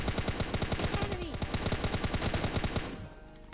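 Rapid bursts of automatic gunfire from a PUBG Lite squad match ring out loud and continuous, with a brief drop-off near the end.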